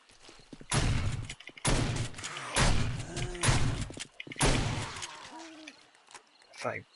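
Shotgun blasts in the video game 7 Days to Die, four or five loud booming shots spaced about a second apart, each with a short decaying tail, amid occasional game sounds and a voice.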